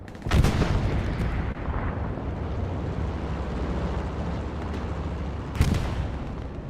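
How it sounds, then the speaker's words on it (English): Rockets are fired at a medium tank in Hell Let Loose, a loud close blast at the start and another near the end, with a rumbling low roar of battle between them. "More rockets for 21st trying to get some hits onto that medium tank still."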